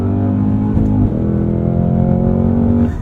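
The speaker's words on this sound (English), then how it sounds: "I want to do a no lift shift here, so taking it down into second, I'm going to keep my foot pinned while shifting gears" Hennessey H1000 CT5 Blackwing engine held at full throttle through a no-lift shift into second gear, a loud, steady close-up drone whose pitch dips briefly at the shift and then climbs again.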